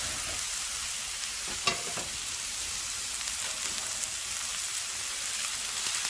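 Onions frying on a flat outdoor griddle during chicken wrap prep, a steady close sizzle with fine crackling throughout and one sharp clatter early on.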